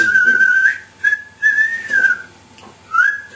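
Clear melodic whistling in several short phrases separated by brief pauses, close and fairly loud, with no talking.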